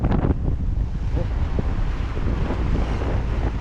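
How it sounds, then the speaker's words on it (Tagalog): Strong sea wind battering a fishing boat near a buoy in the West Philippine Sea, loud, constant buffeting roar with gusty flutter and sloshing water underneath. "Lakas ng hangin."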